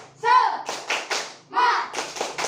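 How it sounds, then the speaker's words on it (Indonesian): Schoolchildren in a classroom clap in short rhythmic bursts, sets of sharp claps alternating with shouted chanting voices between them. "Kita tepuk semangat dulu ya."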